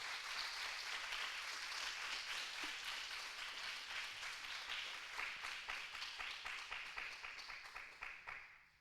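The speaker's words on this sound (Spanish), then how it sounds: "adore a Dios y dele un aplauso al Señor" A church congregation applauds during a Spanish-language worship service, a dense, steady wash of clapping that holds at full strength for several seconds and then thins and fades toward the end.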